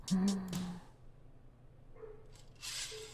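Dogs in the Spirit Hunter: NG video game bark in a short burst of a few yelps at the start, with a couple of fainter barks returning near the end over a quiet backdrop.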